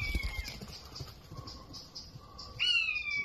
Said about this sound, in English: That sounds like some kind of bird of prey. Don't know quite what. Maybe a kite.